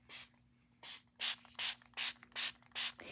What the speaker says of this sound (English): now let's spritz this real good